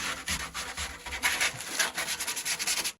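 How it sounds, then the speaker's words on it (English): Fine smooth sandpaper worked back and forth along the wooden edge of a speaker box, close rhythmic rasping strokes in quick succession with no talk. "I just finished it with some coarse sandpaper. Now going over some nice smooth."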